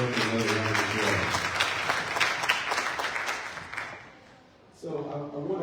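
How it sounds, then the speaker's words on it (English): Audience applause at a community conversation summit, a dense wash of clapping hands that carries steadily, fades out near the end, then picks up again briefly. "Let's give the other another round of applause."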